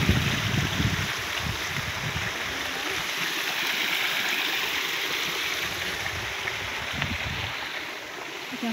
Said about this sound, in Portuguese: O riacho tá correndo.